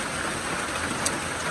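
Steady rain falls around a trail shelter on an Appalachian Trail thru-hike, a constant broadband hiss that fills the whole moment with no voices.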